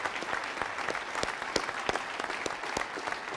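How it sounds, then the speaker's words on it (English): An indoor crowd gives a round of applause for organizing committees and volunteers at a podium event, steady dense clapping with individual sharp claps standing out, no talk. "So I think we should give Jay, the ITC committees, and all of the volunteers a big round of applause for their accomplishment."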